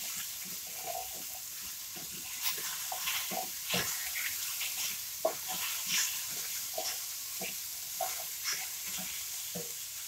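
Garlic sizzles in a hot pan while being turned and stirred, a continuous frying hiss with scattered soft scrapes and clacks of the utensil, close and even.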